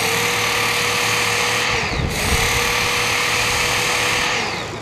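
Work Sharp belt sharpener grinding the edge of a tanto folding knife, a steady high motor whine with a brief dip in pitch as the blade presses on the belt, running continuously and close.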